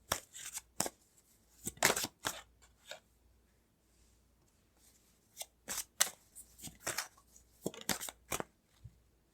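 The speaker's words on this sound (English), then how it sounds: "I'm going to pull a card for each." A tarot deck is shuffled and cards are pulled, giving close, crisp riffles and papery snaps in irregular clusters with brief quiet gaps.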